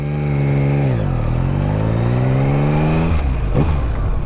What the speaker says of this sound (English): get your clutch in the friction zone and start accelerating out of it